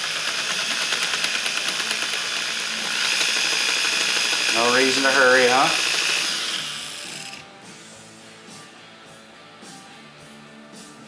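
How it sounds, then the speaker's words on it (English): A drill bit boring into the crankcase of a KLX351 motorcycle, a steady high-pitched whine lasting several seconds before cutting off, with a voice speaking over it. "Just gonna start a little bit of drill here."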